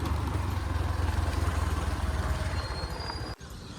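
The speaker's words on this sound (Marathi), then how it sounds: "ही आपली तानाभाऊची गाडी." Tanabhau's car idles with a low, steady engine rumble close by, running evenly before a brief dip near the end.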